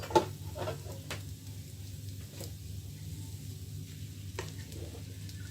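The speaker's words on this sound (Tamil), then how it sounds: "நாங்கள் வடித்து வைத்த ரைஸை நான் இதுக்குள்ள சேர்க்க போகிறேன்." Cooked rice goes into a frying pan with dried anchovies, bringing a low steady sizzle, a few sharp scrape and stir clicks, and a constant background hiss with no voices.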